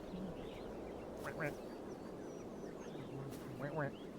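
A duck in the video game Flock gives two short bursts of quacking over a steady hum of ambient game sound, faint and a little distant.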